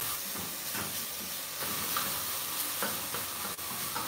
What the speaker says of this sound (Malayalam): ഇതിങ്ങനെ 1-2 മിനിറ്റ് ഇളക്കി ഫ്രൈ ചെയ്യുക